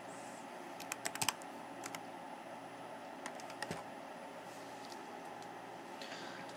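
Light keystrokes on a computer keyboard come in a few short, quiet clusters over a faint steady room hum, with long pauses between taps.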